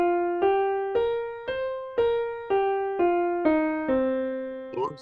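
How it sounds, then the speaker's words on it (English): Minor pentatonic scale on piano, about eight single notes struck at an even pace and each left to ring, followed by a brief voice at the very end. "And the minor pentatonic scale sounds like this."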